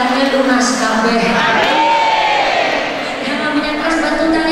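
Audience at an Indonesian Islamic religious lecture in Sukamara cheering and shouting together, a loud, continuous crowd roar of voices with no distinct pauses.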